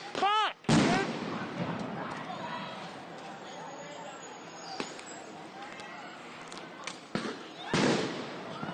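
Police firing at protesters during a 2020 street riot, a few sharp loud bangs breaking through a noisy crowd, with shouting voices nearby and a whistling tone in between.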